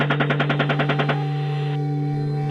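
Rapid machine gun fire in combat, a tight burst of about a dozen evenly spaced loud shots lasting roughly a second, followed by a ringing, humming tail with no voices.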